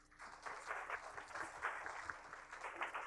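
Audience applause for the moderator at a college climate-change event, a soft, fairly distant patter of many hands clapping that holds steadily throughout.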